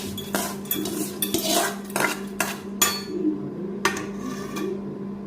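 Hot tempering poured into cooked manathakkali greens in a pot, heard as a string of sharp metal clinks and clatters from a ladle and vessel, with short bursts of sizzle between them and no talking.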